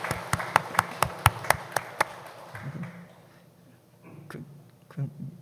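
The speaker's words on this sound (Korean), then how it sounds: "우리 환영하면서 박수 한번 합시다" A church congregation applauds during a Sunday service, giving a quick burst of sharp, rhythmic claps for about two seconds before voices and quieter room noise take over.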